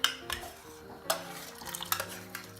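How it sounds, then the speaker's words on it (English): Lentils go into a pot for lentil soup and are stirred, a spoon scraping and clinking against the pot in a few sharp close knocks over a soft sizzle, with no voices. "And we're going to add the lentils to it."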